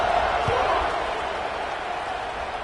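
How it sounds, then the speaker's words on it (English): A stadium crowd at a football game keeps up a steady roaring buzz of many voices after a score. The noise is dense and continuous, with a faint thud near the start. "this crowd is buzzing after that last score"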